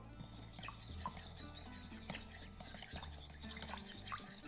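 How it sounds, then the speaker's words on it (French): A lime and lemon juice mixture being stirred for a yuzu whisky sour, with steady clinking and scraping of a utensil against a glass or bowl, close and continuous over low background hum. "Voilà, je mélange."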